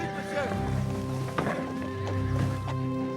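Horses neigh and their hooves clip-clop close by at a relay stop where fresh mounts are brought out, with a loud whinny and steady hoofbeats under voices speaking.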